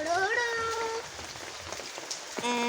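Rain falling at a house, a steady hiss of drops on surfaces, with a cat meowing loudly at the start and again near the end.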